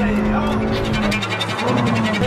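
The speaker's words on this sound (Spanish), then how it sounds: "Ahora acelero." A McLaren car's engine revs under acceleration, a loud continuous roar rising in pitch, close and dominant, with voices mixed in.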